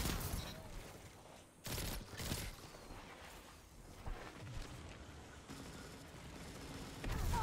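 Pulse rifle firing in bursts in a video game, several short, dense volleys of gunfire separated by gaps, with game noise and faint background sound in between.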